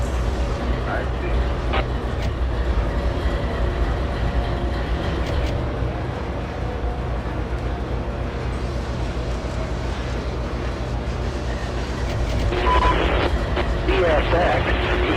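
Diesel locomotive 7006, an AC60, rolling along rails through hills in the Trainz railroad simulator, a steady low rumble with rhythmic track clatter and engine drone throughout, with a voice talking over it.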